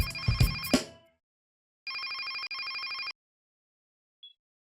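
A mobile phone ringtone sounds in a Hindi TV drama scene: a bright, pulsing electronic melody rings steadily for just over a second, close and clear, after a short burst of other sound, then a tiny blip follows in quiet.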